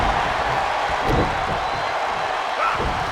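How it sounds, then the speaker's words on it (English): Wrestling arena crowd in WWE 2K22 on Xbox Series X, a dense, loud, continuous roar of cheering fans with no breaks. "The sound of this crowd is deafening, and he's asking for more."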